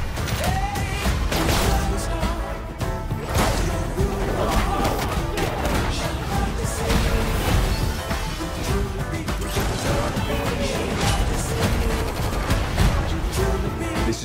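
Rapid gunfire bursts and crashing impacts from a crime action movie trailer pile up densely and loudly over driving music, with some speech mixed in.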